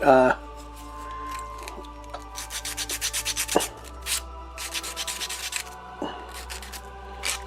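Sanding a warped 3D printed part with 100 grit sandpaper: a close run of rhythmic rasping strokes, steady back-and-forth scrubbing that repeats through the stretch, with brief pauses and a loud knock at the start.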